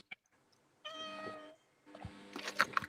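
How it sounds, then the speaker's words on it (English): House cat meowing close by in a quiet room: a short tonal meow, a pause, then a longer, rougher meow with some brief clicks and rustles around it. "I agree with that meow wholeheartedly."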